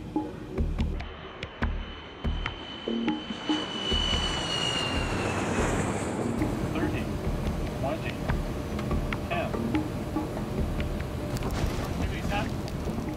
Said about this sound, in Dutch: De vlucht nadert het vliegveld.